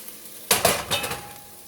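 Onions and celery sauté with tamari in a pot while being stirred: a burst of metal clinks and scraping against the pan over a soft, steady sizzle, close by and fairly quiet.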